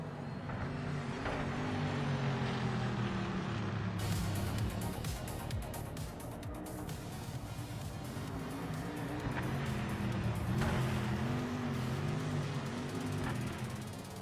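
A Subaru race car in the Project Motor Racing video game drones at high revs throughout, its engine note rising and falling through gear changes with a sharp shift around four seconds, loud and close with no talk.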